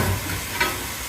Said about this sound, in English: And you can hear them, they're sizzling beautifully.